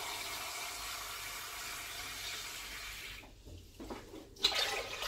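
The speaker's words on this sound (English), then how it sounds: "I'm now going to add basically about a litre of water." About a litre of water pours onto rice and lentils in a pot, a soft steady rushing stream that thins out and stops near the end, quiet and close with no talk.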